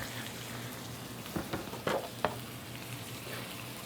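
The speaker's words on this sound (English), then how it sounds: "that's gonna sizzle" Soft, steady sizzling of onions frying in a pan, with a few brief clinks and stirring scrapes mixed in.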